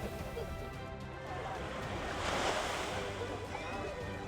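Sea waves and strong sea wind around a sailing Sandeq outrigger boat under sail without an engine: continuous rushing surf and wind buffeting, swelling in the middle, with no voices.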